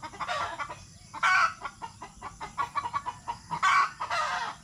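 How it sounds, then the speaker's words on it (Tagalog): Agitated chickens cluck repeatedly in short, busy bursts on a farm, with a rooster joining in among them, all fairly close and with no talking. "Galit na galit yung mga manok mga kasinag oh. Pati yung tandang din oh."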